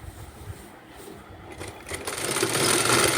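Sewing machine stitching fabric for a blouse: a quiet rustle and a few light clicks give way to a rapid mechanical whirr that grows louder and denser toward the end.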